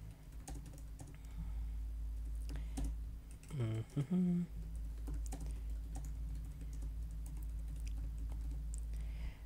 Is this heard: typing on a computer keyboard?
yes